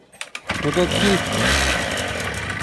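A scooter engine with a freshly cleaned carburetor and new cylinder kit starts after a few clicks and settles into a loud, buzzing run close by, with voices talking over it.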